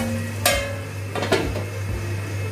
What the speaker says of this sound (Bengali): এখন আমি ঢাকা দিয়ে এই মশলার সাথে আলুটাকেও ভালো করে কষিয়ে নেব